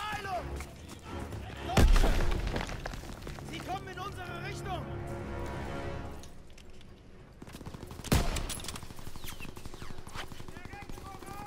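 Gunfire in the World War II shooter game Call of Duty WWII, with bursts of shots and two heavier booms amid busy in-game noise and a player talking over the action.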